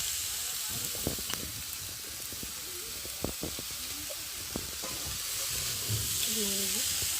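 Cabbage fries in a pan under a constant hissing sizzle, with spatula scrapes and clicks as it is stirred, and brief murmurs of a voice in the background.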